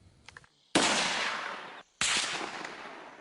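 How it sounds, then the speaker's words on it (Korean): A sniper rifle is fired at night in Korean special forces training, with two sharp, loud reports, each followed by a long decaying echo, after faint clicking handling sounds. "어둠을 뚫고 울려 퍼진 총성"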